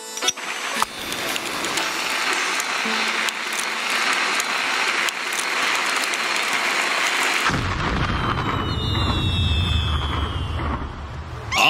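Continuous loud rumbling blasts and crackling bursts, like a barrage of bombs and fireworks in an animated cartoon, shifting into deeper booms with whistling streaks near the end.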